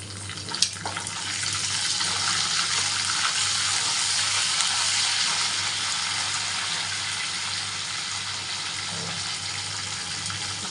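Curry leaves and chana dal with dried red chilies crackle in hot oil as a constant loud hissing sizzle, close and unbroken, with one sharp pop near the start.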